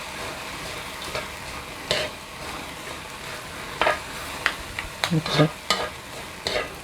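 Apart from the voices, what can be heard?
stirring shrimp in soy sauce seasoning in pan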